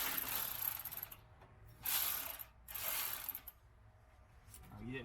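Ratchet clicking in bursts while loosening cylinder head bolts on an overheated 1989 Ford F150 with the 4.9L engine, with three loud broadband runs of rapid pawl clicks separated by short pauses, close to the microphone.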